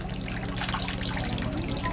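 Sacred water fountain at a Kyoto temple trickling steadily, a close, continuous splashing dribble with faint outdoor ambience and no speech.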